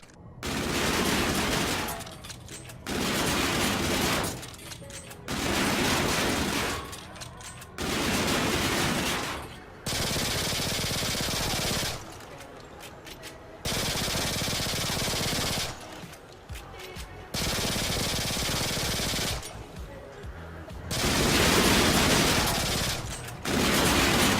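Bursts of Glock G11 automatic fire from Call of Duty come in about seven loud, sustained strings of rapid shots, each lasting a couple of seconds and separated by brief pauses.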